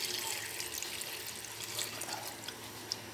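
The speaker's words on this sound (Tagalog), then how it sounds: "Lalagyan ko na ng tubig." Water is poured into a cooking pan of chicken adobo with tofu in a cola sauce, giving a steady, soft splashing and trickling for a few seconds with no talk.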